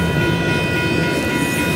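A Union Pacific train passes close by in El Paso, its loud, steady rumble and rail noise filling the whole moment.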